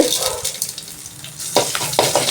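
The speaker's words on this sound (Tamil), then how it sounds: "இந்த உளுந்தையும் வறுத்து இது கூடயே வச்சிட்றேன்" Urad dal frying in a little sesame oil, giving a steady soft sizzle with crackly hiss, with a few louder stirring scrapes and spatters near the end.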